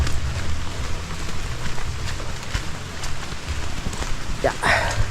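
Steady heavy rain pours down nonstop outdoors on a slippery right-of-way, a dense, even hiss of drops close around, with a brief rustle near the end.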